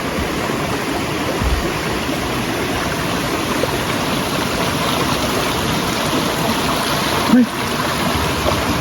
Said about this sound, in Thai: ได้ยินชัดสุดก็เสียงน้ำนี่แหละ